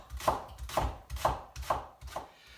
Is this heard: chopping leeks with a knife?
yes